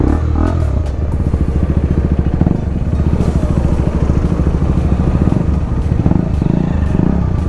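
A KTM RC 390 motorcycle with an aftermarket exhaust runs close by, its engine holding a steady, loud rumble without a break.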